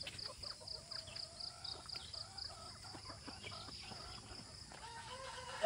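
Farmyard chickens cluck in a steady run of short, repeated calls at moderate distance, with a soft constant background hiss and no talking.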